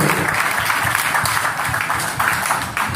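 Wedding guests inside a church clap for the newlyweds in a loud, continuous burst of many hands, with a few voices rising briefly through it.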